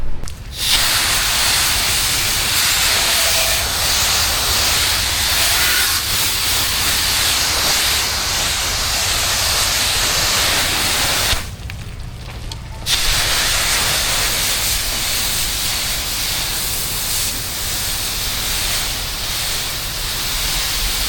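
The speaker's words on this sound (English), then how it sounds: "We're gonna wet them up with a little H2O, get those nice and wet" Water jets hiss from a pressure sprayer wetting down bushes during a house wash. The spray is loud and continuous and cuts out briefly about halfway through before resuming, with no talking.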